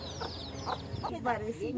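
Chickens cluck in a village yard, with three or four short, close clucks spaced out over a steady low background.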